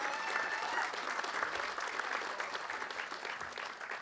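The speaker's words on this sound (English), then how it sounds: "Let's give that a big round of applause." Audience at a student roll call honouring and remembering youth breaks into steady, dense applause, a continuous close wash of many hands clapping with no talk over it, fading slightly toward the end.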